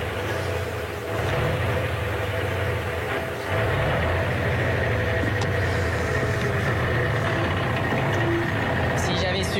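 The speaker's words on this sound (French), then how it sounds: "Ah, voilà ton camion." A truck engine idles at close range, a steady low rumble that grows louder and thicker after a few seconds and continues under people talking.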